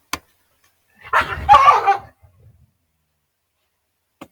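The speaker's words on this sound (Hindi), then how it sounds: "कुत्ते भौंक रहे हैं शायद" Dogs barking in the background, a short cluster of yelping barks from a distance in an otherwise quiet room, with a couple of faint clicks before and after.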